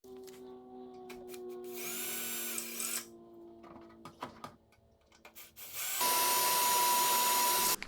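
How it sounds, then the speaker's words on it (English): A power drill with a 1/8-inch bit whirs through material in two bursts, first a short whine, then a louder sustained grinding spin after a quieter pause. "I'm going to start with a 1/8 drill bit"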